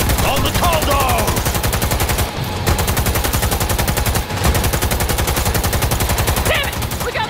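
Rapid, continuous gunfire rattles through a Cyberpunk 2077 firefight, loud and dense with brief gaps and small bursts of other effects.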